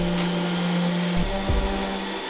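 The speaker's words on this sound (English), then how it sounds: "I attached the vacuum hose at the side and did some test sanding" Vacuum hose attached to a downdraft sanding box during test sanding: a steady, moderately loud motor whine with stable tonal hum, shifting pitch twice as the airflow load changes.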